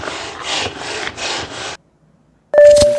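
Video game car-tire cleaning effect: repeated rough scrubbing strokes in a steady back-and-forth rhythm, then a pause, followed by a short bright tonal chime with clatter.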